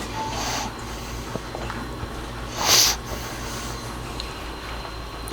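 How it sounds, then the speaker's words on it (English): A person sniffles close into a microphone in a morning kitchen while making a breakfast sandwich, one brief sharp sniff standing out over a steady low background hum. "sorry about sniffling in the microphone"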